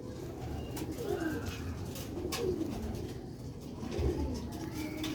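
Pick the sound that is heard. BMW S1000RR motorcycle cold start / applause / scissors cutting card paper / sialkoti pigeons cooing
sialkoti pigeons cooing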